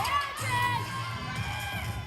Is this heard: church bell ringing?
no